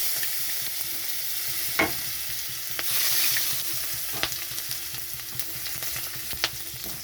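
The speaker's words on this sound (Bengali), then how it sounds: "রসুনটা একটু ভাজা হয়ে গেছে" Garlic and nigella seeds fry in hot oil with a steady, crackling sizzle throughout, broken by a few sharp spatula clinks and a brief louder hiss.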